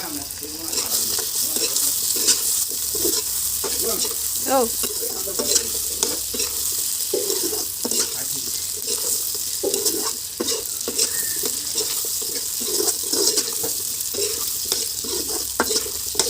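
Potatoes and jackfruit seeds sizzle in hot oil in a pan while a spatula stirs and scrapes in repeated strokes, a close, steady frying hiss throughout.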